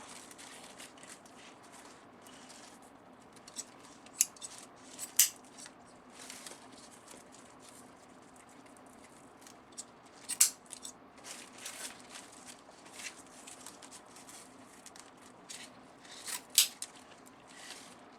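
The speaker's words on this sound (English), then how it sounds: "Get rid of my government scissors." Scissors cutting ribbon snip in scattered sharp cuts, a handful of crisp clicks spread over quiet background handling noise.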